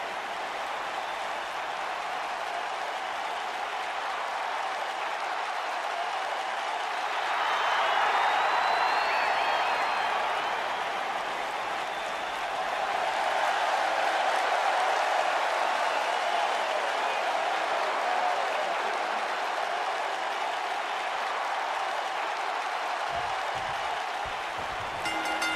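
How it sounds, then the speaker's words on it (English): A virtual arena crowd in the WWE 2K19 wrestling game roars and applauds ahead of an Extreme Rules match, a steady dense wash of cheering that swells louder twice before settling back, with no talk over it. "it sounds to me like the crowd is more than ready for this one"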